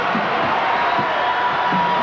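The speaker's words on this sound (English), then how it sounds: "Crowd trying to get this UNLV team into it." Arena crowd at a UNLV versus Long Beach State college basketball game, a steady dense roar of cheering and shouting with no pauses, loud and continuous throughout.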